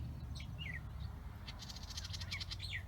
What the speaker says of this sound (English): Wow, there's a bird right there.